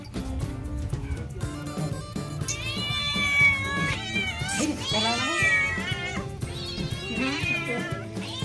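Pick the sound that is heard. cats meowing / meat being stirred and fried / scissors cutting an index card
cats meowing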